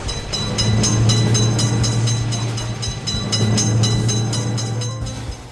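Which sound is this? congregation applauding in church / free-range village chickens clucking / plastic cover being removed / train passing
train passing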